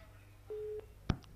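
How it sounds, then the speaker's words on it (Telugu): A telephone busy tone after a dropped call: a single steady electronic beep, quiet and close, followed by a short click on the line. "call cut అయినట్టుందండి"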